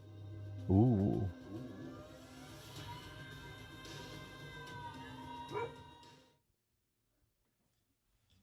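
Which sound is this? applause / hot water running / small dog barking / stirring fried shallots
small dog barking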